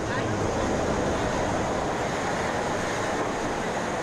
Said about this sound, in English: I ratchet up on the cogwheel train